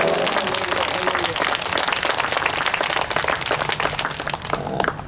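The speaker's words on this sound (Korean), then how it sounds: "한 번 더 하나님께 영광의 박수 올립니다." Church congregation clapping in praise to God, a dense, sustained round of applause filling the room for several seconds before tapering slightly at the end.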